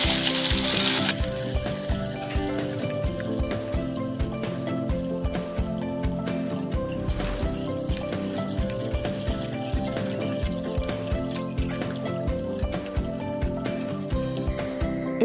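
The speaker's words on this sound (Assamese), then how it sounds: "তেলখিনি গৰম হোৱাৰ পাছত আমি কাটি থোৱা আলুকেইডোখৰ ফ্ৰাই কৰি ল'ম।" Cut potatoes sizzle steadily in hot mustard oil in a kadai, a loud, continuous crackling fry with small pops and spatters running throughout, close and with no voices.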